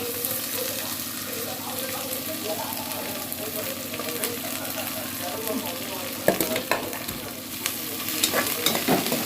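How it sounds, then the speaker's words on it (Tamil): Sliced onions sizzling in oil in a pot with bay leaf and cardamom for mushroom biryani, a steady close frying hiss with scraping stirs and a few clinks of the spoon against the pot. "ஸ்லைஸாக கட் பண்ண வெங்காயத்தை ஆட் பண்ணி"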